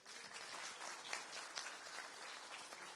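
Steady applause from a crowd at the Turkish Interior Minister's speech in Istanbul, a dense wash of clapping hands that carries evenly throughout, moderately distant and fairly quiet.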